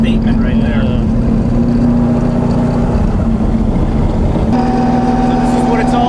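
A steady, loud engine drone with a low exhaust rumble runs the whole time, its pitch shifting slightly partway through.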